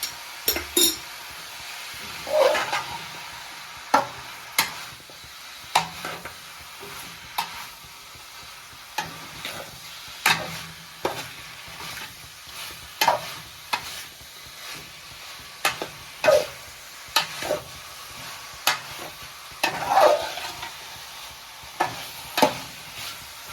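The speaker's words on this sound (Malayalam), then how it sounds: "ഇടയ്ക്കിടയ്ക്ക് ഇളക്കി നോക്കണം" Kerala-style chicken chukka fries on medium flame in a pan, a soft continuous sizzle broken by intermittent scraping stirs of a spoon against the metal, close and unhurried over about twenty seconds; no speech.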